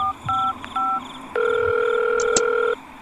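A phone keypad beeps through a few short dialing tones, then a long steady electronic tone holds before stopping.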